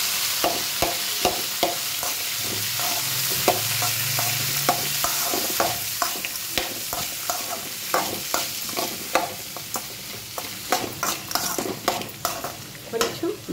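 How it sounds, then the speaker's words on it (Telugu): Onion and tomato frying in a pan for hotel-style tomato chutney: a steady close sizzle with frequent sharp scraping stirs of a spatula, getting more rhythmic and frequent toward the end, with no talking. "కొంచెం ఆనియన్ అది పచ్చి వాసన పోయేంత వరకు ఫ్రై చేసుకుని తర్వాత టమాటో యాడ్ చేసుకుందాము"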